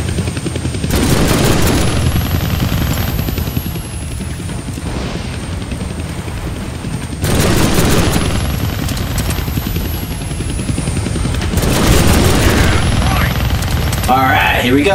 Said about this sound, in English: Get the chopper.